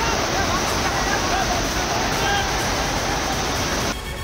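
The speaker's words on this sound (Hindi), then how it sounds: "देखिए इस शैतानी सैलाब को, जिसके आगे हाईटेक जमाना घुटने टेक चुका है।" Floodwater rushing through flooded streets in Gujarat makes a dense, steady roar, loud and continuous throughout before dropping suddenly near the end.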